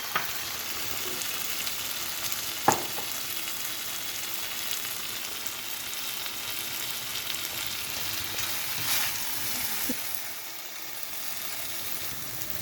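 Boiled macaroni tipped into a pan of frying chicken and vegetables, giving a steady low sizzle and frying hiss throughout with a few soft clinks and stirring scrapes.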